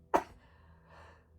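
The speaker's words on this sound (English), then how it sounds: "I'm going to sneeze." A single sharp sneeze bursts out close to the microphone, followed by a soft breathy exhale and then quiet.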